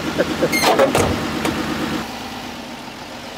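A car engine runs as the vehicle starts to roll slowly forward. A few short sharp noises come near the start, and then a steady low engine hum carries on under faint background sound.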